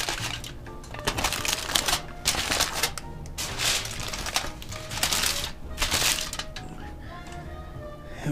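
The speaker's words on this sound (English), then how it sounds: "So I'm gonna try to seal this up as well as I can with this first piece of foil." Aluminium foil crinkles and crackles continuously as it is folded and sealed around a smoked brisket, with sharp crisp bursts in an uneven rhythm, close and fairly loud throughout.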